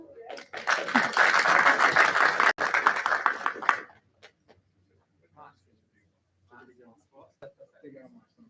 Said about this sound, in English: I'll give him a hand clap.